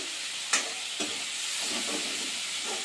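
Prawns frying in a pan, a steady moderate sizzle with a couple of sharp utensil knocks early on and soft stirring sounds after.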